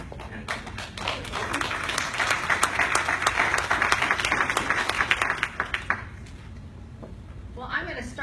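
An audience at a UN Foundation forum on sustainable development data applauds a speaker, with dense, steady clapping that swells, then thins and fades as voices come in near the end.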